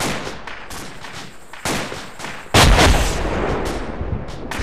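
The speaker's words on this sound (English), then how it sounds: "They're just throwing frags all over this forest" Frag grenade explosions and gunfire in an Arma co-op video game battle in a forest: scattered shots crackle before two loud, close blasts boom, the second heaviest and followed by a rumbling tail.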